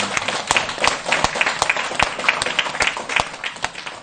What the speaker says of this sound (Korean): 박수 쳐야지.